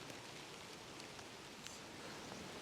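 Steady, soft hiss of rain falling in the Neath Valley, Wales, an even wash of patter with a few faint drips standing out, quiet and continuous throughout.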